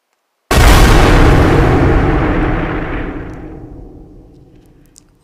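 A Minecraft creeper blows up in a video game: one loud, sudden blast that booms close and full, then slowly rumbles away over several seconds, with no voices.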